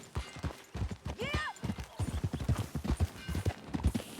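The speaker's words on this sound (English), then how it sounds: "Who's a good horse? Follow me. Let's ride." Horse hooves clip-clop in steady rhythm in the Red Dead Redemption 2 video game, close and clear, joined by a brief whinny early on.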